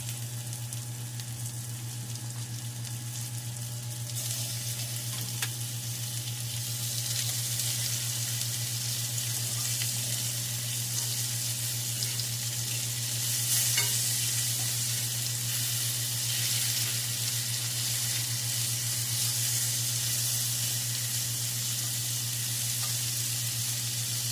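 White onion frying in a pan with cooking oil, a steady close sizzle with faint stirring and scraping, continuous and even throughout, with no talking.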